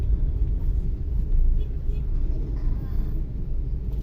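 Saturday traffic jam on the road toward Ploso, Lamongan: a continuous low rumble of car and motor vehicle engines with road noise, fairly close, steady and unbroken.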